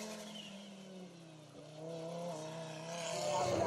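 A replica Audi quattro rally car drives at the Eifel Rally Festival, its engine note droning and rising as it accelerates. The sound is moderately distant and is heard on its own, with no talk.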